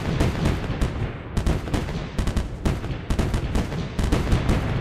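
Artillery towers in M.A.C.E. Tower Defense firing in rapid, loud, repeated bursts, with booming shots arriving in quick clusters separated by brief gaps, and no talk.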